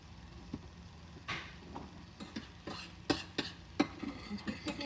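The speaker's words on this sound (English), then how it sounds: "And you're going to saute that for a little." Peppers and onion saute quietly in a pan, with a faint sizzle beneath a series of soft spatula scrapes and clacks that grow more frequent toward the end.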